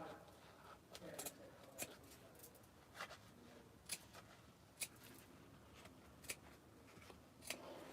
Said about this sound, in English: you just gotta go snip and do some lovely eye gouging